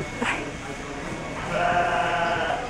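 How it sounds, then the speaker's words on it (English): Sheep bleating close by at an outdoor fair, a short wavering bleat in the second half over background crowd murmur. "It's a zebra sheep."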